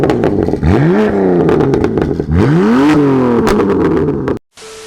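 A BMW F82 M4 Competition with its exhaust valves closed revs hard twice, each loud, close rise climbing and falling back, before cutting off abruptly into near silence.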